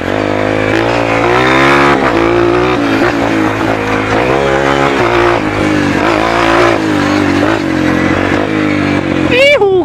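A Honda CRF230 trail motorcycle rides a dirt track, its engine revving up and down loudly and close with shifting pitch, while a person talks throughout.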